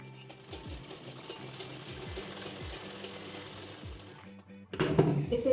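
Sewing machine stitching a four-tuck belt blouse, running in a steady rapid stitching patter for several seconds before a louder clattering burst at the end.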